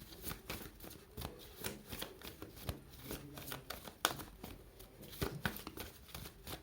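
Amethyst Love oracle cards being shuffled by hand: a quick, steady riffling and flicking of card edges, close and soft, repeating through the whole stretch with no talking.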